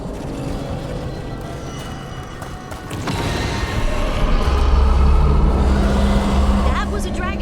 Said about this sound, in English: That was a dragon I heard, right?